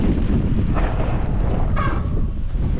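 Steady wind roars across the microphone while riding an electric-assist mountain bike into a headwind on a mountain pass trail in the Basque hills, a constant broadband rush with no speech.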